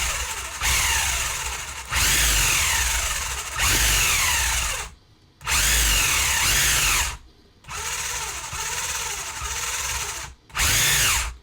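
Electric motor of a WLtoys Speed Rage 124028 RC buggy whines in repeated bursts, cycling forward, braking and reversing with short silent gaps between each loud, rising and falling whir.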